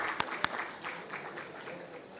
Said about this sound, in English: Ladies and gentlemen, let's give them a huge round of applause,